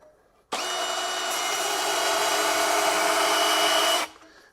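A Milwaukee M18 Fuel deep cut band saw cuts through Schedule 80 4.5-inch steel pipe, starting abruptly with a loud, steady whining buzz that holds for about three and a half seconds before stopping.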